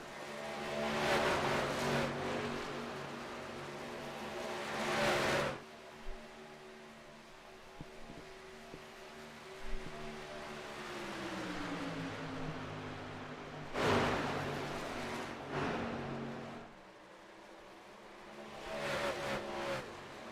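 Racing trucks in a video game roar in waves as a pack passes, loud bursts early and late with a steadier droning hum in between.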